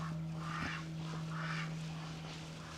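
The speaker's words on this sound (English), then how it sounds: "Actually, that looks like a goose." Geese honk near the water in a few faint, distant calls spaced apart, over a steady low background hum.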